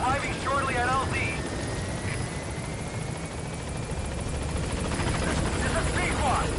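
Helicopter B-Quad flying in toward a landing zone in Metal Gear Solid 5, a steady loud rotor and engine drone filling the whole stretch, with a few brief chirping radio or game sounds riding over it.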